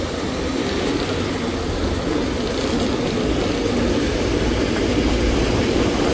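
Heavy trucks grind along the Kasara Ghat road, heard from a motorbike as a loud, continuous low engine rumble mixed with wind roar, unbroken throughout.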